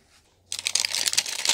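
Scissors cut into the plastic packaging of a Minecraft mini mining kit toy, a sudden burst of crinkling and rustling plastic after a quiet moment, close and without talk.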